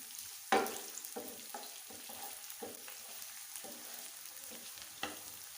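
Onions fry and brown in a pan, a quiet close sizzle broken by a sharp clatter at the start and light spoon stirs recurring every second or so.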